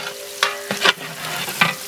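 Onions cook in ghee in a pan, a soft sizzle underneath a few distinct scraping stirs of a spatula at irregular intervals.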